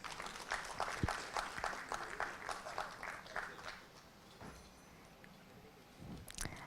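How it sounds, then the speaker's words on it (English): An audience at a business leadership event applauds a panelist being welcomed on stage, a fairly faint, distant patter of clapping that fades after a few seconds, with scattered later claps. "Let's welcome Mr."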